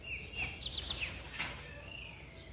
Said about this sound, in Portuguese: só o canto dos pássaros